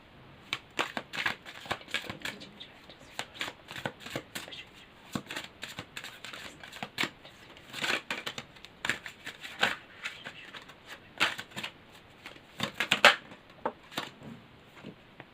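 Tarot cards being shuffled by hand give a long run of quick papery riffles and soft slaps, with bursts coming in uneven clusters for about fifteen seconds, close and fairly quiet, with no talking.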